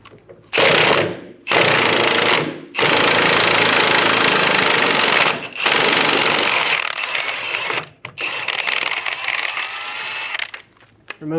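A 15mm socket on an impact tool hammers at the bolt of a 2000-2007 Ford Focus rear lower control arm in loud, sustained bursts, broken by several brief pauses, with a final rattling stretch as the bolt comes free.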